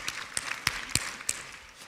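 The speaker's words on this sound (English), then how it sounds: "And we should have applause here" Scattered applause rises from an audience at a corporate technology day event, a handful of distinct sharp claps spaced irregularly over a faint background rather than a full ovation.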